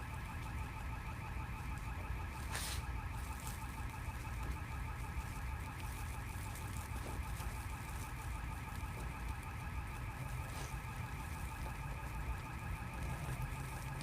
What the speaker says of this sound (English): Somebody's car alarm.